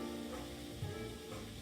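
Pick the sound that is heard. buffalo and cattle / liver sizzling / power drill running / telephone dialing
liver sizzling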